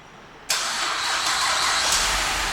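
A 2010 Chevrolet Traverse LT fires up by remote start after a moment of quiet, the engine catching abruptly and settling into a steady, loud idle that holds to the end.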